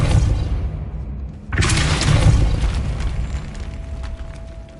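Depulso spell cast in the video game Hogwarts Legacy, a sudden loud burst with a crackling, shattering blast that rings out for a few seconds, with no talking.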